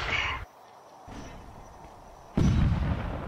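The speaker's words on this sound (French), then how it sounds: "on arrête les canons qui font de grosses pertes" Cannon fire in the video game Rise of Liberty, heard as a short burst at the start and then a louder, heavier boom near the end, with a quieter rumbling stretch in between.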